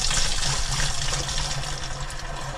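Cold tap water pours steadily into a homebrew fermenter jug, a continuous loud gushing splash up close that holds at an even level throughout.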